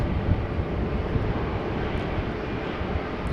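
An Icelandair Boeing 757-200 jet at Amsterdam Schiphol gives off a continuous, broad engine roar, steady and moderately loud with no breaks, set against outdoor wind.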